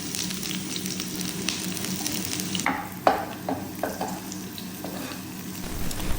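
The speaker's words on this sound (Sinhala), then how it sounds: "ලුණු ටිකක් තෙල් එකේ බැදෙන්න දෙනවා." Sliced onions sizzle and fry in hot oil in a pan, with a continuous crackling hiss broken by a few louder stirring scrapes and clinks midway, close and with no talk.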